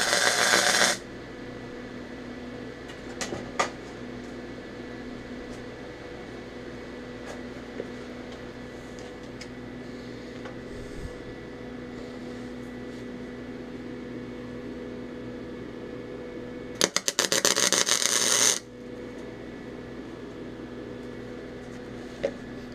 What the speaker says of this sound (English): Then we'll tack the two remaining sides.